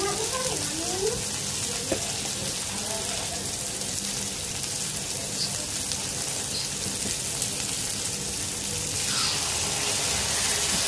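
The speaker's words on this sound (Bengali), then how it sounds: "একটু পানি দিয়ে দিব," Water splashes into a pan of frying onion, tomato and ground spices, producing a loud, continuous rushing hiss that swells slightly toward the end, heard alone and close.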